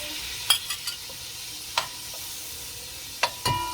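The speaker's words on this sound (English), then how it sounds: "I'll now go ahead and add some tomatoes into the butter." Chopped tomatoes frying in melted butter in a pan, a steady soft sizzle broken by a few sharp stirring scrapes, close and alone.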